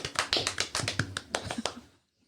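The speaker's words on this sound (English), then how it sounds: "You got to clap your hands and clap your cheeks at the same time so it sounds like multiple people are clapping." Rapid clapping that mixes hands with butt cheeks at once to sound like several people clapping; a dense run of about a dozen close, sharp claps for two seconds, then silence.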